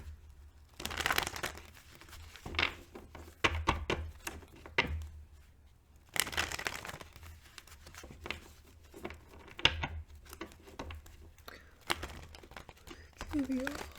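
Tarot cards being shuffled and handled, with soft crinkling riffles and scattered crisp snaps close by, in short bursts separated by quiet pauses.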